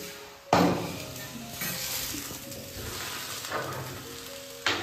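Chicken egg cutlets sizzle steadily in a hot pan, a continuous close frying hiss with occasional louder bursts and faint clinks of a utensil, no talking.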